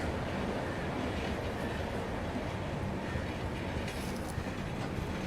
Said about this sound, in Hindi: देखो काशी विश्वनाथ एक्सप्रेस तो रेस के लिए तैयार है। धीरे धीरे एक्सेलरेशन वो भी पकड़ रही है